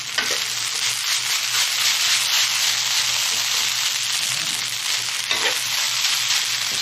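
Garlic fried rice with Spam and bacon sizzles steadily in a hot pan as it is stirred, a continuous close frying hiss with soft scraping throughout.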